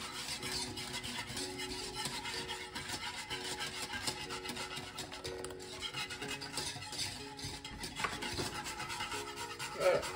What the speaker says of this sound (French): On le fait progressivement en mélangeant pour pas que ça cuise les œufs.